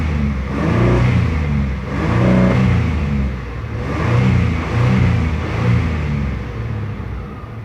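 An old car engine revving repeatedly toward high RPM, loud and close, rising and falling in several swells with a rough rumbling tone and no talk.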